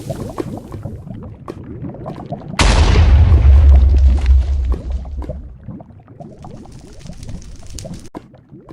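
TNT blowing up in Minecraft Java Edition, one sudden loud boom followed by a heavy rumble that fades over a couple of seconds, with softer block-breaking crackles around it.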